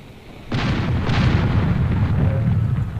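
Cannons firing cannonballs from an airship in the game Air Buccaneers: a sudden loud boom followed by a second blast, then a sustained rolling rumble of battle.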